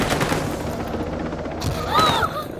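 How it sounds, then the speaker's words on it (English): Rapid enemy gunfire aimed at the player in the Ghost Recon Breakpoint video game, a dense fusillade of shots filling the short clip with a louder burst near the end, heard alone without talk. "They're shooting me now."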